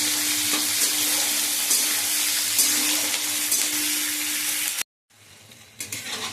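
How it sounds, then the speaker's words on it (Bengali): Chopped onion fries in a pan with a loud, steady close-up sizzle and occasional stirring scrapes, then cuts off before quieter kitchen sounds resume. "এবার পেঁয়াজ কুচিটা একটু ভাজা ভাজা করে নেব।"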